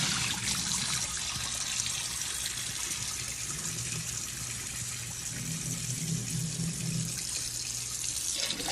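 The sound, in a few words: tap water running while washing rice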